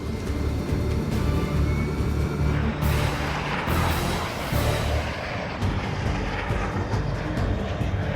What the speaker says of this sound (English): Over Iraq, Captain Tristan Wickersham and his Harrier approach an ISIS firefight.